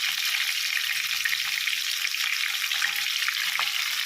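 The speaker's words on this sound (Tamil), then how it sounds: "இப்போ இது கூட வந்து வெங்காயமும் பச்சை மிளகாய் வச்சுருக்கேன், அது போட்டுக்கேன். நல்லா வதங்கணும்." Chopped onions and green chillies frying in a pan, a steady, even sizzle that holds close and constant throughout with faint stirring underneath and no talking.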